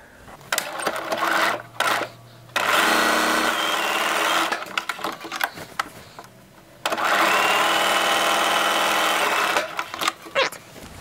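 A sewing machine stitches the shoulder seams of a lingerie pajama top in two long, steady runs, separated by a short pause with handling noise, loud and close with no speech.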